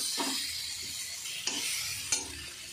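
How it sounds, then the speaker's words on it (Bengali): Spice paste for a soybean and potato curry fries in a pan, a steady broadband sizzle running throughout with a few sharp scrapes of stirring, close and fairly quiet. "দেখেন আমার মশলাটা ভাজা হয়ে গেছে"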